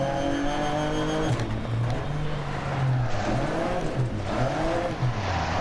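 A front-wheel-drive rally car's engine in DiRT Rally 2.0 revs steadily under throttle, a continuous droning note rising and dipping as the gas is pressed and eased, loud and close with no talking.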